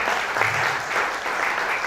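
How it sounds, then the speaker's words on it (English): An audience at a World Antimicrobial Day event claps steadily, a dense even patter of applause filling the short moment without pause. "Please clap for the organizer for this program."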